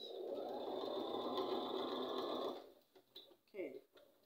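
A home sewing machine back stitches a reversible bonnet, a steady close whir running without a break for about two and a half seconds before stopping; a few brief voice sounds follow in the quiet.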